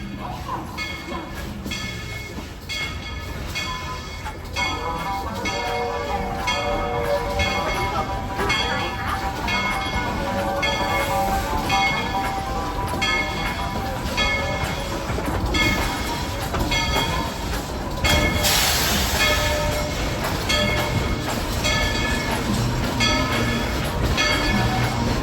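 Tweetsie Railroad train number 190 rolling down the mountain, a continuous rumbling run of wheels and cars with rhythmic clatter, a brief horn-like swell near the end, and faint voices underneath.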